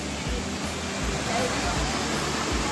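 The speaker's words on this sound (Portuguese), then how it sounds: "A Cachoeira do Mendanha." Mendanha waterfall in Brazil roaring as a steady, broadband rush of falling water that fills the clip without a break, loud and close.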